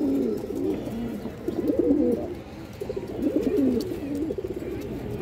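Male pigeons coo in overlapping bursts from black-winged birds, deep rolling throaty calls rising and falling for five seconds, close up, with no talk over them.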